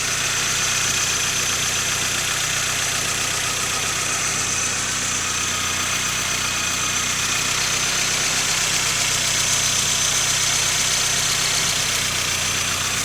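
A rebuilt 1.8 engine from a 1993 Chevrolet Kadett SLE runs at a steady idle, its close, continuous mechanical hum and whir holding even for the whole stretch with no talking.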